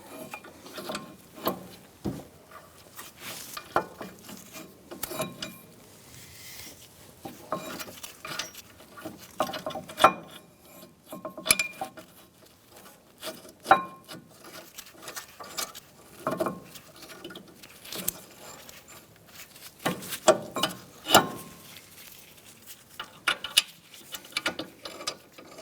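Hand ratchet clicking in short bursts while threading and tightening the front brake caliper bracket bolts on a 2010-2013 Kia Soul, close and fairly quiet, with scattered metallic taps and handling noises between bursts.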